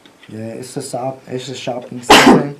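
One sharp, loud sneeze bursts out near the end, following a stretch of people talking, sudden and close.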